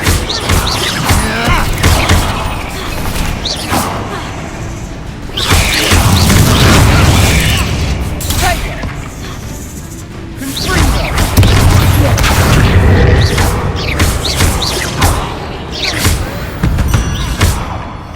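Confringo fire spell exploding in Hogwarts Legacy inside a tomb: loud, dense rumbling booms and crashing debris that swell and recede in waves over a continuous game soundscape.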